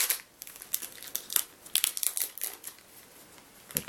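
Pokemon card pack wrapper being torn open by hand, a string of close, sharp crinkles and rustles in irregular bursts with brief pauses between them.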